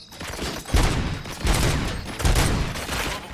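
Rapid bursts of gunfire from the Robocop Rogue City video game, three heavy clusters of shots crackling over a dense, noisy background with no voices.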